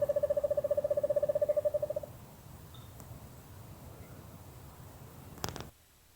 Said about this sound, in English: Really kind of haunting song. It is, you can't see it here, but the owl has horns.